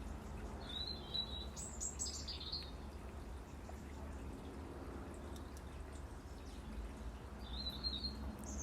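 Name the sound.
bird chirping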